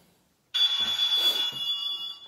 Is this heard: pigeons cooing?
no